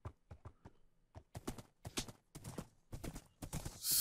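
Horse hooves clip-clop in a Minecraft game as a quick, uneven run of light clacking steps, fairly close and clear, with a louder burst at the end.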